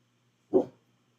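A dog gives a single short, fairly loud bark close by, with no talk.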